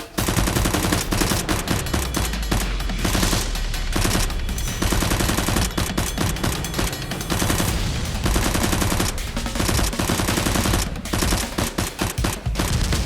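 Nerf guns fire almost nonstop in a staged fight, their rapid, dense bursts loud and close throughout, with brief gaps between volleys.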